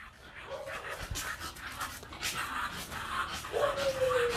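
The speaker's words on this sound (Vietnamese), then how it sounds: "cái mũi nó ngắn quá cho nên cái đường hô hấp nó hay bị đó, thở khò khè vậy đó, thở rất là mệt" A short-nosed dog with breathing trouble pants heavily and rapidly up close, with a few faint whimpers, on a farm.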